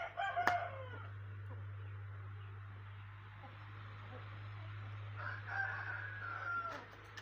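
A rooster crows faintly in the distance, twice, over a steady low hum and quiet background noise.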